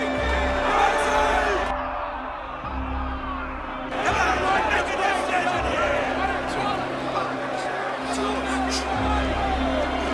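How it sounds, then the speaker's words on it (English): A boxing crowd stays on its feet after the fight, a dense wash of yelling, whoops and babble filling the arena, steady and loud throughout with a brief lull in the middle. "The crowd on its feet for almost the entire fight is still standing, yelling"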